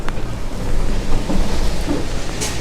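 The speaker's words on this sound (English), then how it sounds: "it's like a big downpour" A heavy rain downpour in Midtown Manhattan: a loud, dense roar of rain close by, with gusty buffeting across the microphone and a constant wash of noise.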